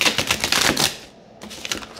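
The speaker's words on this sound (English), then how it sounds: "I don't know what kind of shuffle this is called" A deck of cards being riffle shuffled close up: a quick burst of rapid fluttering clicks, a brief pause, then another short flutter.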